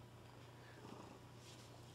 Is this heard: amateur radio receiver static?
no